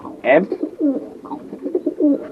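A cock pigeon coos repeatedly as it comes into an aviary housing a breeding pair and young birds, with several close, throaty rolling coos in a steady run.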